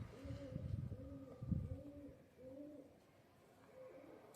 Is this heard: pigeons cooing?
yes